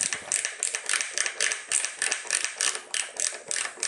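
A Gorilla short ratchet screwdriver turned clockwise gives a steady run of rapid, crisp ratcheting clicks in close, even bursts, loud and alone for several seconds.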